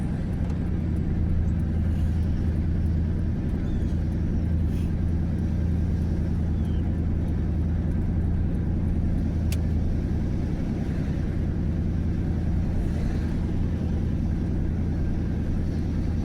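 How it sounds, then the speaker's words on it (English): A truck engine idles smoothly and steadily nearby, a constant low rumble that holds without change throughout, with faint outdoor background. "This thing runs so nice. I enjoy this, man. This thing's like music to my ears, man. This truck is."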